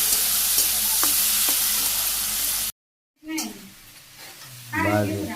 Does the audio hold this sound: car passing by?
no